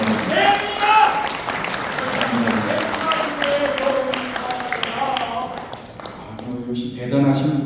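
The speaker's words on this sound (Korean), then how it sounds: "이봉우 회장님 여러분 박수 한번 보내주시기 바랍니다." Moderate audience applause at a Korean lecture event honoring a guest, a loose patter of clapping mixed with voices talking over it, tapering somewhat toward the end.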